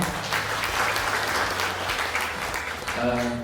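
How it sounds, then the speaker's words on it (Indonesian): An audience in a school teacher-training session gives brief, dense applause, steady for a few seconds before tapering, with a voice starting up near the end. "Mungkin aplaus untuk tepuk tangan untuk kita semuanya."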